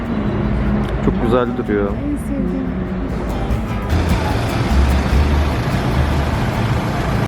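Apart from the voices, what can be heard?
street traffic in Tirana, Albania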